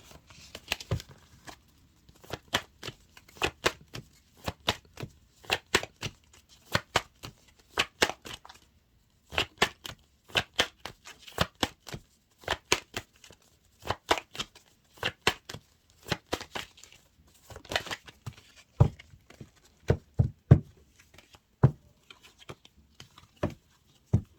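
A deck of tarot cards is shuffled over and over, with bursts of crisp riffling clicks and soft slaps coming in irregular clusters, close and fairly quiet, with no talking.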